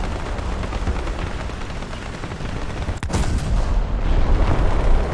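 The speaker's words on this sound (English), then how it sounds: "Yeah, it's an actual cannon." Tank cannon fire from a 75 mm Sherman-type tank in War Thunder: one sharp, loud blast stands out midway, set against a continuous dense rumble of battle noise, with no talking.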